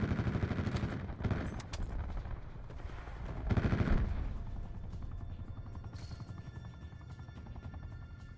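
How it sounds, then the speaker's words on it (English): In Call of Duty Black Ops 4 multiplayer, an attack helicopter's rapid gunfire rattles in dense bursts with heavy booms and explosions, loud and continuous over the battlefield. "Deploy attack helicopter on my beacon."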